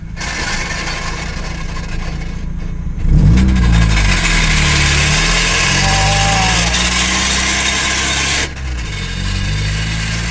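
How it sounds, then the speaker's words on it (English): Mazda Miata with a blown transmission, engine idling then revving loudly with rough mechanical grinding, a sharp surge about three seconds in and a drop near the end. "as you can tell, transmission is blown"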